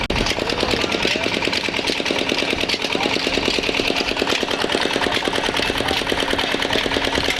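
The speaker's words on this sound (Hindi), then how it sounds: "जिसके साथ के 32 हॉर्स पावर का पीटर इंजन मुंसलिक किया गया है" A 32-horsepower Petter engine running on biogas from cow dung and driving two tubewells, producing a loud, steady, fast-thumping mechanical chug that stays close and constant the whole time.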